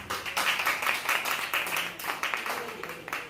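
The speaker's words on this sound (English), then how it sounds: "Give a round of applause, please." Clapping from an audience at a primary school maths quiz competition, uneven and moderately loud, mixed with some background voices and room noise over about three seconds.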